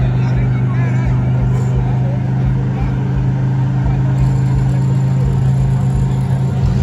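A thousand-horsepower Audi sits at a street drag race, its engine a loud, steady low drone close by, with a crowd murmuring underneath.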